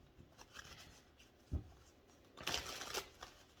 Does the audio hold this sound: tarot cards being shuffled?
yes